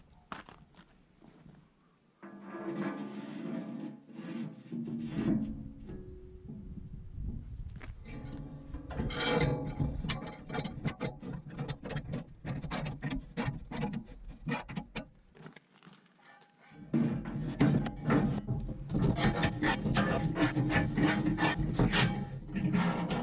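Clamp-on steel pallet forks being fitted onto the bucket of a Kubota B2601 compact tractor, heard as a steady run of scraping, rubbing and knocking handling noises, close and fairly loud, with brief quieter pauses between bursts.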